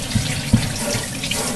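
Water from a handheld sprayer rinsing out a toilet tank, a steady broadband hiss of spray with a couple of soft splashy bumps, close and continuous with no talking.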